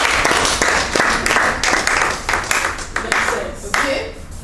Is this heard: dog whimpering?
no